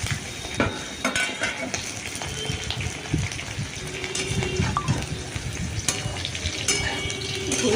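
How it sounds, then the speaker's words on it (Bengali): Potatoes frying in a pan give a steady, fairly loud sizzle with gushing, bubbling texture and scattered clicks of stirring, continuous throughout with no talking. "আলু ভাজা হবে"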